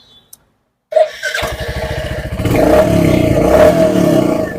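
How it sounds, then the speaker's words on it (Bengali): A Royal Enfield motorcycle starts up after a brief quiet moment, then settles into a loud, close thumping idle before revving a little higher, with the engine running steadily to the end. "গাড়ির ইঞ্জিন নোটটাও আমি শুনিয়ে দিচ্ছি"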